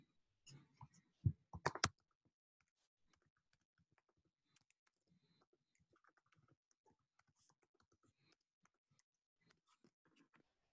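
Quiet computer keyboard typing while code is written, a brief burst of louder key clicks early on followed by sparse, faint taps scattered through near silence.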